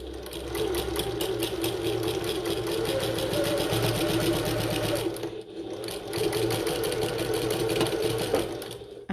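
A sewing machine stitching a bucket tote runs in a fast, steady mechanical chatter, close and loud, with a short pause before resuming at the same pace.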